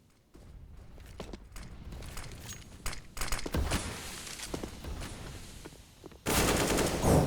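Rapid automatic rifle fire in a Counter-Strike: Global Offensive match on de_train, with AK and Galil bursts mixed among scattered single shots and footsteps, building to a loud sustained volley at the end.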